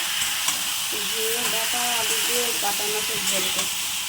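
A pot frying for fish curry hisses steadily, with tonal whistling or voice-like sounds drifting over the sizzle partway through.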